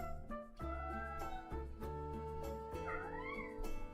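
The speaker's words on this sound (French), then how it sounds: "Et le chat se met à chanter." A cat meows in a long drawn-out, sing-song series of tonal calls that rise and fall, loud and close, with short breaks between phrases and no talking.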